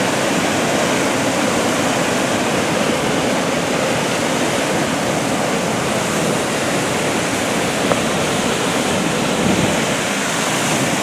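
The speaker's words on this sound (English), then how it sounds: "There's a lot of water flowing over there right now." Water rushes over an open dam at Ferris Provincial Park as a steady, loud, broadband roar that holds constant throughout, with no voices.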